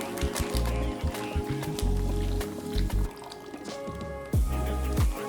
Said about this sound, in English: I've got my Ziploc bag here, and I'm gonna start with some buttermilk.